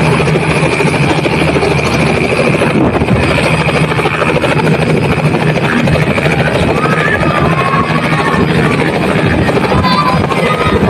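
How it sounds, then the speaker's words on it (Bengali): A helicopter on the Madhumati river bank in Gopalganj runs its engine and rotor for takeoff, a loud, close, continuous roar with a steady thrum and turbine whine throughout. "এখন সবাইকে নিরাপদ দূরত্বে সরিয়ে দিয়ে হেলিকপ্টার উড়ানোর জন্য"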